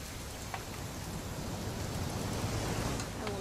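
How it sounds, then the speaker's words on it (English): Rain in What Remains of Edith Finch pours as a dense, even wash of noise with occasional distinct drips, fairly loud and continuous, no voices over it. "It's gonna rain the whole weekend, isn't it?"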